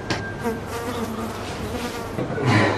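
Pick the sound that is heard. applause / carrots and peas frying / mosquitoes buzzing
mosquitoes buzzing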